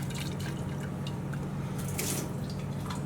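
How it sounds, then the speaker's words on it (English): Boiling hot water sloshing and splashing as it is shaken around inside a glass jar to sterilize it, a steady close liquid rattle with brief brighter splashes, no talking. "pour some boiling hot water in. And all we want to do is just shake that around"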